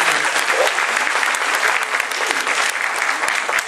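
Audience applause for the cabaret group Kabaret Małże, steady dense clapping from a crowd that holds loud and even for the whole stretch.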